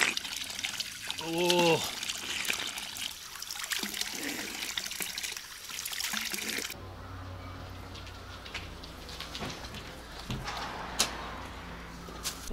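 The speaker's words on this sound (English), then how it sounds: "Ice cold spring water." Ice-cold natural spring water flows out of the ground in Japan, a close, steady trickle and splash heard under brief exclamations from a man.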